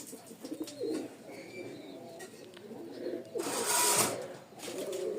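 Pigeons of a Rajshahi Giribaz flock coo in low, rolling calls close by, with a brief burst of wing flutter partway through and no one speaking.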